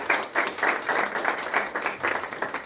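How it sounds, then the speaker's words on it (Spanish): An audience bursts into steady, dense applause at a health center's public accountability event, with many hands clapping continuously and fairly close for the whole moment. "Un aplauso para el ingeniero Francisco Quimí."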